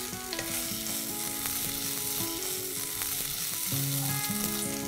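Potatoes cut into chips frying with onions in a pan of oil, lightly salted, a steady sizzle throughout with occasional utensil clinks and scrapes.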